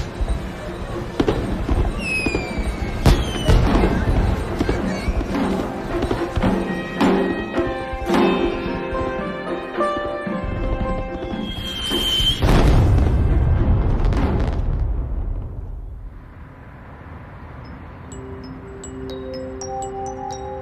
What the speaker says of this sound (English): watch the skies of New Delhi light up in a dazzling display of fireworks